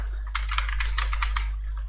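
Rapid keystrokes on a computer keyboard as a name and password are entered into accounting software, a quick run of close, crisp clicks over a low steady hum.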